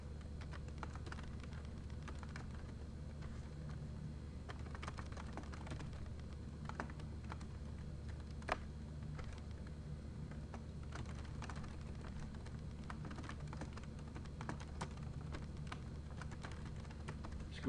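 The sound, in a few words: typing an address on a computer keyboard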